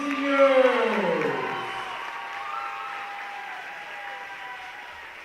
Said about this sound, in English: A big round of applause to all your Titan seniors!